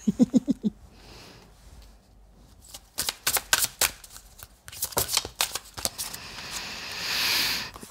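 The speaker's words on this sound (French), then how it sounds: "avec l'oracle des anges maintenant. Et je finirai avec 1 ou 2 cartes." Angel oracle cards being shuffled by hand, with brisk riffling bursts and soft slaps in quick rhythmic clusters, close and fairly loud, ending in a longer smooth sliding swish.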